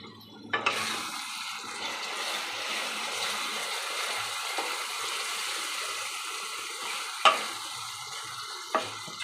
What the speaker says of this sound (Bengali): মশলা বাটিটা ধুয়ে স্লাইড একটু জল দিলাম।